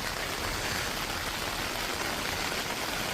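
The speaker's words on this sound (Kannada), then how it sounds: "ಸಡನ್ ಸ್ಟಾರ್ಟ್ ಆಯಿತು ಮಳೆ" Steady, even rain pours down in a village setting, a dense continuous hiss with no talk over it.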